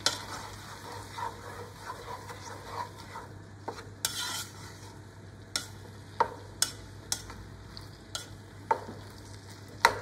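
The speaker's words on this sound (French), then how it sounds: "Je mélange un tout petit peu." Chicken blanquette with mushrooms being stirred in a pan, with a soft steady simmer and repeated sharp clicks and scrapes of a utensil against the pan, fairly close, no talking.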